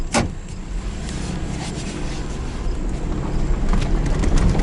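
A 2006 Ford Ranger with a 3.0 engine rolling through a yard at low speed, a continuous low rumble with gravelly crunching and a sharp knock near the start.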